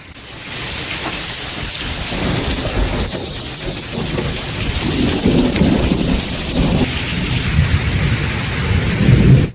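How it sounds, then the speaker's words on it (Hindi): Heavy rain pours steadily during a thunderstorm in Jharkhand, with dense hiss and low rolling thunder rumbling throughout, loud and continuous. "तूफान के बाद झमाझम बारिश हुई और मौसम सुहाना हो गया।"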